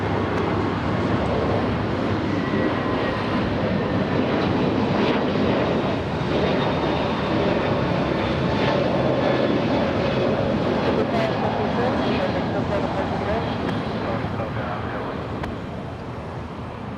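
A fixed-wing airliner at LAX airport, its engines roaring loud and steady throughout and fading slightly toward the end, with voices faintly under the noise.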